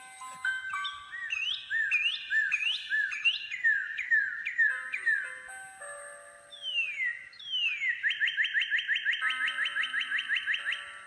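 Recorded songbird calls play from a coin set's music display box: a series of bright chirps, whistled sweeps and trills, clear and close, with brief pauses between phrases and a rapid trilling run near the end.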